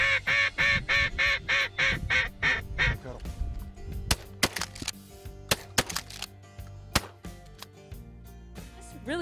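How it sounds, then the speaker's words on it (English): Ducks on a freshwater marsh quack loudly and close in a rapid run of calls, then give way to sharper, scattered knocks and clicks with softer calls behind. "It's really cool to see a different variety of ducks in one place."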